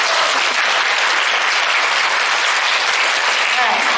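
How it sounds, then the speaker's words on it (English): A crowd at a school choir concert bursts into loud, dense applause, a steady, close roar of many hands clapping together that holds without a break throughout. "you're giving them a round of applause"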